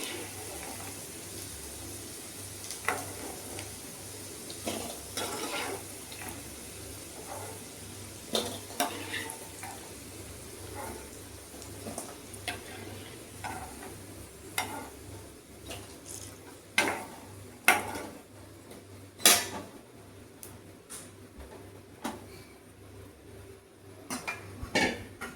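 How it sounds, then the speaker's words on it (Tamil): Fried pieces of plantain are lifted out of a frying pan into another vessel with a utensil. Scattered metallic clinks and scrapes sound over a low, soft sizzle of oil, close and intermittent. "நான் எடுத்து இன்னொரு பாத்திரத்தில் போட்டுக்கலாம்"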